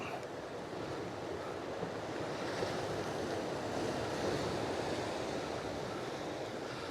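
Waves splash steadily on a rocky shore at a hidden coastal spot, a continuous broad wash of surf mixed with wind rumble, moderately close and without speech.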